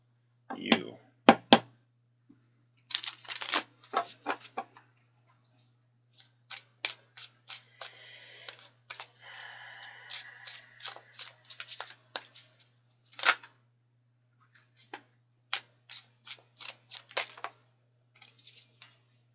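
Tarot cards being shuffled close up, a run of crisp riffling and slapping bursts with short pauses, a longer stretch of soft continuous card rubbing in the middle, and a faint steady hum underneath.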